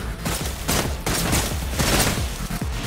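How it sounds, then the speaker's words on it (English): Rapid gunfire in the video game Wuthering Waves rattles out in dense, close, loud bursts, with sharp shots piling up across the whole stretch. "Let the bullets fly!"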